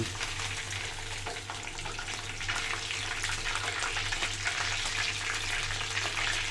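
Tilapia fries in a pan with a dense, even sizzle and hiss, fairly quiet and steady throughout, with no talking.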